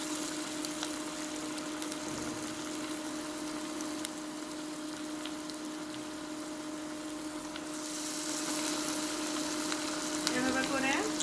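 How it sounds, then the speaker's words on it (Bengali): Dal piyaju, onion and lentil fritters, frying in hot oil in a kadai on a stove: a steady, close hiss of bubbling oil that swells louder toward the end, with a low background hum. "তো আমি চুলায় একটা কড়াই বসিয়ে নিয়েছি এবং তেল গরম করে নিয়েছি।"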